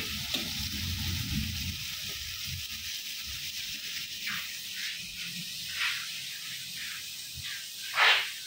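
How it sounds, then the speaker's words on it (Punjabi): Food fries in a pan with a continuous sizzling hiss and occasional louder spatters and stirring scrapes, close by, with no speech. "ਇਹਨੂੰ ਚੰਗੀ ਤਰ੍ਹਾਂ ਫਰਾਈ ਕਰ"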